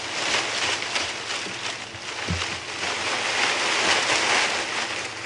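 On a morning game drive at Djuma Game Reserve, a leafy plant is shaken to imitate rain, producing a soft continuous rustling hiss with faint swells, quiet and close, without speech.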